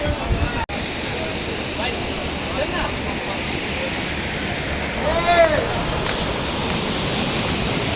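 Kalu waterfall in Maharashtra: a steady, loud roar of falling water with no breaks, and faint voices from a crowd mixed in underneath.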